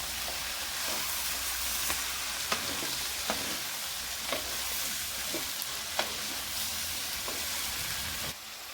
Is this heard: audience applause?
no